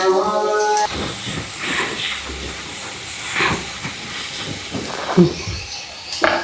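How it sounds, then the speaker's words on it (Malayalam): Sliced onions with a pinch of salt sizzle while sautéing in a pan, a steady close hiss with crackling bursts and a voice talking over it. "നല്ലോണം വഴന്ന് വരട്ടെ ഉള്ളി വെന്ത് വരണം"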